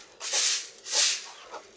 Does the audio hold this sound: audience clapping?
no